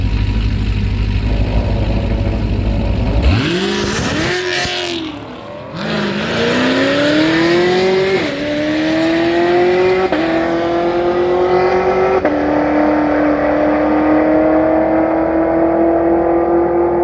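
A Dodge Hellcat Redeye and a nitrous Mustang, both on hard tires, launch in a drag race: loud idling gives way to a roaring take-off, then engines scream through repeated upshifts as they pull away.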